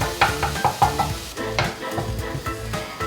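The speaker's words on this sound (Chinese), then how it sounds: "現在就是要靠油給它煎得焦香" King oyster mushrooms with shiitake pan-frying in oil until browned, a close, steady sizzle broken by rhythmic scraping strokes of a spatula stirring them around the pan, with no talking.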